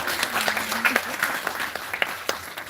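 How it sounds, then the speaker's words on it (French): Applause rises from a meeting audience honouring a mostly female committee team at an inter-institutional report session; steady clapping with a voice briefly heard over it. "je pense que nous sommes capables d'applaudir, oui."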